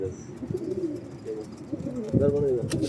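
Low, soft pigeon coos repeat among shuffling and rustling, with a voice briefly mixed in nearby.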